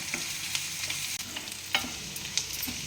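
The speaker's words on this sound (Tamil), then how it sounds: "இப்போ நம்ம இஞ்சி பூண்டு விழுது போட்டுக்கலாம். இஞ்சி பூண்டு விழுது போட்டுக்கோங்க. இதையும் சேர்த்து நல்லா வதக்குங்க." Onions and ginger-garlic paste sautéing in a pan for a green peas and potato curry, a soft steady sizzle broken by a few sharp spoon scrapes and clicks against the pan.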